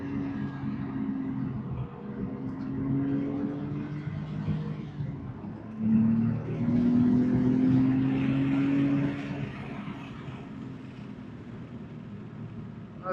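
A Porsche 992 Carrera T on Ohlins Road & Track coilovers runs hot laps on a track, its engine note rising and falling as it accelerates, heard moderately from inside or near the car without talk.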